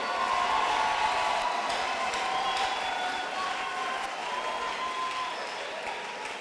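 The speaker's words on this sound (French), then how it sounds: "Est-ce qu'on peut acclamer le Seigneur?" Church congregation applauding and cheering during a sermon, a dense, continuous wash of clapping and crowd noise that holds steady and loud throughout, with voices mixed into the roar.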